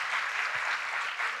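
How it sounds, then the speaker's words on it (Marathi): Enthusiastic applause from an audience at a school cultural program following a solo act, a steady crowd of hands clapping at moderate volume for a short stretch, no talking. "जोरदार टाळ्या"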